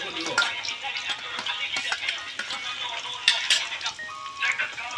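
Onion frying in hot oil on a village stove outdoors in a jungle, a steady crackling sizzle with scattered stirring clatter and brief louder pops, fairly close and continuous throughout.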